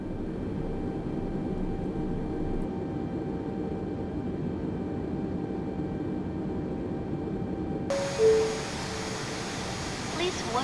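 A simulated Airbus A320 is pushed back by a ground services tug in a flight simulator. A steady, even aircraft hum and whine continues throughout, with a brief change in tone near the end.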